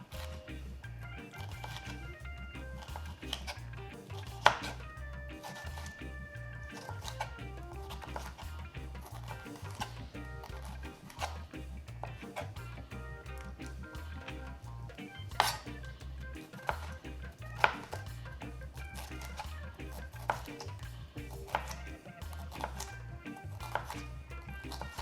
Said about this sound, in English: I'm gonna cut these julienne style.